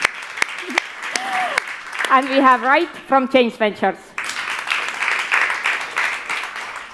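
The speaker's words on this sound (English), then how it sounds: "Yes, we can applaud." A crowd at an Estonian startup demo afternoon applauds between pitches. A presenter talks over light clapping before a fuller round of applause swells and continues to the end.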